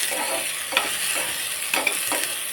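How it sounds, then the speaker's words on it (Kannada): Food being stirred and fried in a pan in a home kitchen, a steady sizzling hiss with a few brief scraping stirs of the utensil, close and moderately loud, no talking. "ಚೆನ್ನಾಗಿ ಇದು ಫ್ರೈ ಆಗಬೇಕು."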